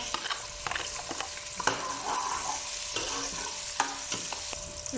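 Ginger sautéing in a pan with a steady sizzle, broken by clinks and scrapes as it is stirred, several sharp knocks spread through the stir-fry, no voices.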